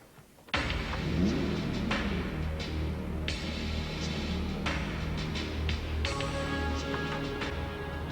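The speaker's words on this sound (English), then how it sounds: "That's the sound of a 4-litre V8 engine sending 280 horsepower through an automatic gearbox to the rear wheels." A Toyota 4-litre V8 producing 280 horsepower, driving the rear wheels through an automatic gearbox, drones steadily at speed from inside the cabin, with a constant low rumble and road noise and no talk.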